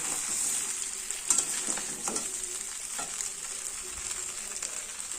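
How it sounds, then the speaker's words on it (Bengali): Catla fish heads sizzling in a pan with spices, a steady crackling fry with occasional stirring scrapes and clicks, close and fairly loud, with no talking. "এই যে কাতলা মাছের ভাজা মাথাগুলো দিয়ে দেবো এবার দিয়ে এই মশলা দিয়ে আবার ভালো করে কষাবো"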